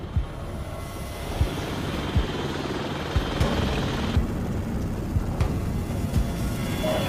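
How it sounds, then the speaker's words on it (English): An MH-60 Black Hawk helicopter flies overhead with a steady roar and regular low rotor thumps, sustained at moderate distance without any voices. "aboard an MH-60 Blackhawk helicopter"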